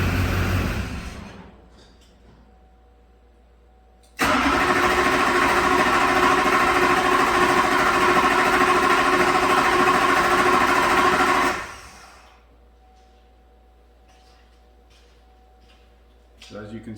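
A 2003 GM truck's 6.6 diesel engine starts abruptly and runs loud and steady for about seven seconds before winding down to silence; it is quiet before and after.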